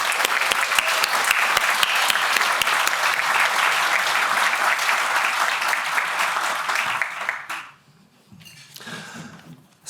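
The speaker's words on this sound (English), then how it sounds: "And I think she deserves a personal round of applause." A conference audience applauds for Ashley at a North Carolina chapters gathering, a loud sustained round of clapping that runs for most of the stretch before cutting off sharply, leaving a few faint scattered claps at the end.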